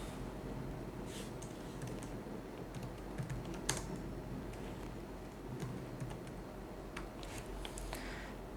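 Steady rapid keystrokes on a computer keyboard as a cardholder's name is entered into an online card payment form, a dense run of light clicks with small bursts, close and fairly quiet, with no voices.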